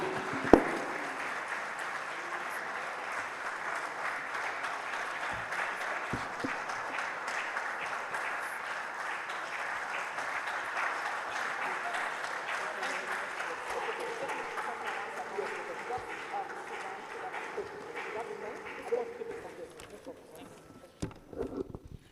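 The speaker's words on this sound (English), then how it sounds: "A round of applause for Dr." Sustained applause from an audience, a dense wash of clapping that carries on steadily and tapers off toward the end.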